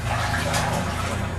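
Wading through deep, muddy water in a low old coal-mine tunnel, a dense continuous sloshing and churning of water close by, steady throughout.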